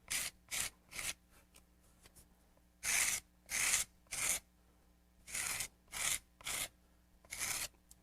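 A tool scraping grogged clay for mishima inlay, a series of short, close rasping strokes in uneven bursts with quiet pauses between, no voices.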